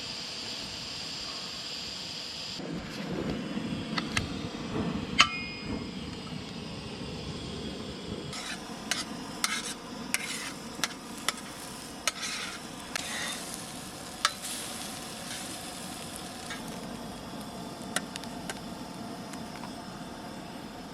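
Sausages fry on a camp stove near Benton Hot Springs with a steady, close sizzle, and occasional sharp pops and ticks of spattering fat stand out above it.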